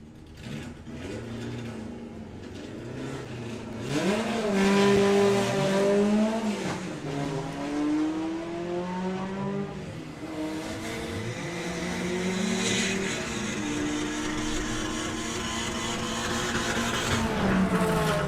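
Drag racing cars run at Santa Pod during Summer Nationals 2025 qualifying for VW drag racing, engines roaring and climbing in pitch through repeated hard accelerations, loud and close, with a sustained rasp continuing to the end.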